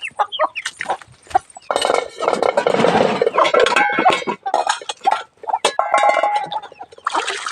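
Chickens cluck and a rooster calls close by around a home where dishes are being washed, bursts of loud clucking and crowing rising and falling continuously with no talk.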